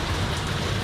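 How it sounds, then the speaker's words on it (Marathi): Heavy rain falling outside, a dense, loud, continuous wash of noise with no breaks, heard alone. "बाहेर बघितलं तर हे वातावरण, जोरदार पाऊस सुरू आहे"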